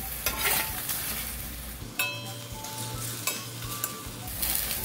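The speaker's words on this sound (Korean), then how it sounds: "오징어를 뒤집어주고요" Squid steaming in a covered pot is turned over: a soft, continuous steam hiss is broken by a few sharp utensil clanks against the pot.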